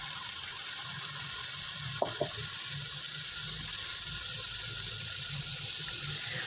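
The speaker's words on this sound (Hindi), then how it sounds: "2 से 3 मिनट इसको हमने ऐसे ही तेज़ आंच पे पकाना है, ताकि इसका जो पानी है वो अच्छे से खुश्क हो जाए" Meat for Peshawari namkeen gosht sizzles steadily in a pot on a high flame, a constant crackling hiss with a couple of brief utensil clinks partway through.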